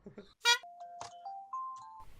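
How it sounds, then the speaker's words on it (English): A phone ringtone plays a short sequence of clear bell-like chime tones, close and moderately loud, with a brief burst of other sound before it. "That's Jackson's ringtone"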